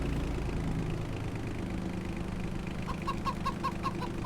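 Chickens cluck in short bursts toward the end over a steady low engine hum.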